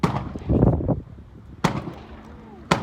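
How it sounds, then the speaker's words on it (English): A .410 shot shell fired from a Marble's Game Getter gun, heard as two sharp, loud reports well apart, the first preceded by a brief burst of handling noise. "Here's me shooting the 410 shot shell for the first time."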